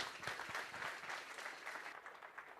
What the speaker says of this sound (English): A loud round of applause for Gautam, please.